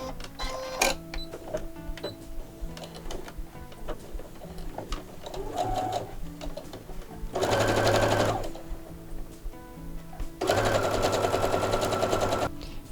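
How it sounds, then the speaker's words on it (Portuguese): Sewing machine stitching a fabric strip closed on a small fabric-scrap pouch, two loud sustained bursts of rapid mechanical stitching with quieter handling and clicks between them. "Agora a gente vai para a máquina fechar essa abertura."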